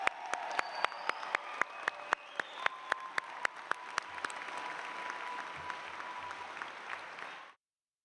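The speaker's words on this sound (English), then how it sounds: "Let's give a round of applause to the class of 2024." A convocation audience applauds the graduating dental school class, with sharp individual claps standing out near the front over a dense wash of clapping that carries on steadily, then cuts off abruptly.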